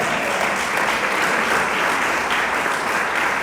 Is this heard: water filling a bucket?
no